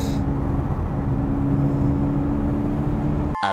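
A manual-transmission car pulls away as the driver applies gas, its engine a steady low drone with faint whine tones throughout, ending in a brief clunk near the close.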